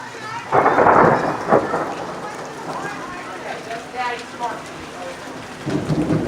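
Thunder rumbles and rain falls during a thunderstorm, with loud booming bursts near the start and end, steady rain between and people talking at times.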